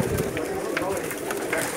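Pigeon of a very old breed cooing in soft repeated calls at close range, with a steady background hum and light rustling.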